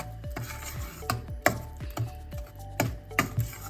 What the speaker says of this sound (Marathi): आता मध्यम गॅसवरती परत हे परतून घ्यायचं